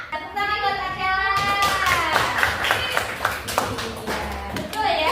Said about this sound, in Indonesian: Tepuk tangan buat Akela.